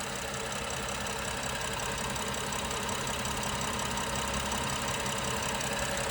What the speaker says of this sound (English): nice and smooth running engine, no odd noises or vibrations